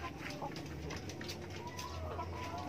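Chickens clucking among a small flock of laying hens kept on a black soldier fly farm, a steady low murmur of fowl sounds with brief calls throughout, no talk.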